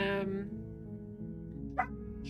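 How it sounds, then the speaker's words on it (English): A house dog gives a short, close yip or bark at the start, followed by a brief sharper burst later, over a steady hum of background sound. "That's our dog, who's also involved trying to make decisions here."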